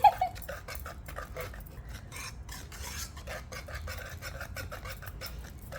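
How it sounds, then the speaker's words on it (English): A whisk works condensed milk fudge in a pot over low heat, giving a steady rasping, scraping rhythm at close range with regular strokes and no talk. "So I gotta whisk away"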